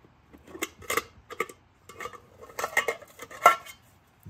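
A mess kit being opened, metal cookware and a mesh tray clattering and clinking in several short irregular bursts, close and fairly loud, with quiet gaps between.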